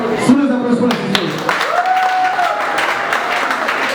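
Guests applaud at a civil wedding ceremony, a close burst of clapping with a voice speaking over it as the applause continues.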